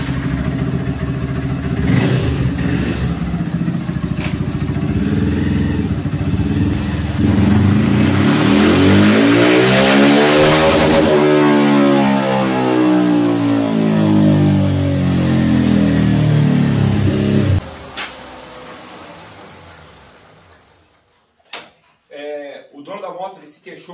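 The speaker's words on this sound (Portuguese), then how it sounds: "Vou fazer uma passada, fazer um aquecimento básico, uma passada em terceira e outra em quinta." A Honda CB 300 motorcycle fitted with a CG 160 TBI throttle body revs on a dynamometer, climbing steadily in pitch to a loud peak, then dropping back before cutting off. A voice speaks briefly near the end.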